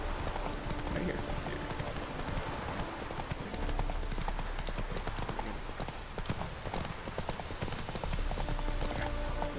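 Hooves of Roach, the horse in The Witcher 3, clop in a steady gallop through the whole stretch, loud and close over a rain-like wash of game ambience.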